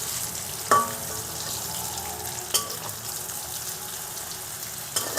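Paneer cubes fry slowly in a pan, giving a soft, steady sizzle with a few brief clicks of stirring, fairly quiet and with no voices.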